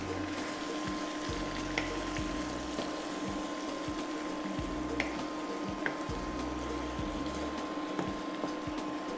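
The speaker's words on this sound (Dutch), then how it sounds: "Dit gaan we dan eventjes bakken totdat die wat donkerder wordt" Crushed galangal fries in a pan with oil, giving a steady close sizzle with a low electrical hum underneath and occasional soft stirring clicks and taps.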